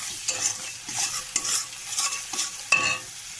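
Meat frying in a pan with masala, green chilies and tomato sizzles steadily while a utensil stirs and scrapes in several sharp bursts, close and clear, with no talking.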